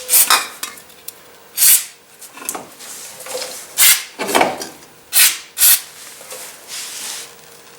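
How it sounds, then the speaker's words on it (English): A front brake caliper's cavities are scrubbed clean with brake cleaner, giving repeated bursts of scraping and rubbing with a few light metallic clinks. The strokes are irregular and close by, and no one speaks. "clean both cavities with brake cleaner"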